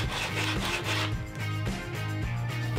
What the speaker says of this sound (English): I actually have to do some hand sanding on the slot just to widen it out just a little bit